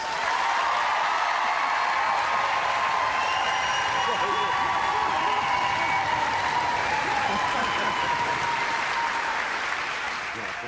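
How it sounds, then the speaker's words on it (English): A studio audience at a live paranormal show in London's East End gives a long, sustained round of applause that stays steady and loud throughout before tapering slightly at the end. "if you want Derek to win, you give him a round of applause."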